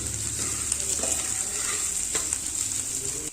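Onions frying in a pan for a quick yogurt-based dish give a steady, close sizzle with a few light stirring clicks and scrapes and no voices.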